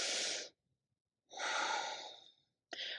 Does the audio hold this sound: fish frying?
no